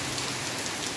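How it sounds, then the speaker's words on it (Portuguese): Heavy rain pours steadily in the countryside near Carnaubal, Ceará, a dense, even hiss of drops on surfaces filling the whole moment at moderate level, with no voices. "É porque a chuva, pessoal, é forte, viu?"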